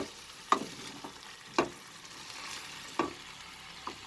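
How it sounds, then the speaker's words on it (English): Cabbage and potato curry stirred in a pan with masalas, a soft sizzle underneath and a few distinct spoon scrapes and knocks spaced out over a few seconds, close by and without talk. "After adding the cabbages, I will mix it."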